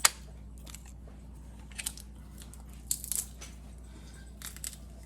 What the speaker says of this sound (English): this garlic mincer has become my new best friend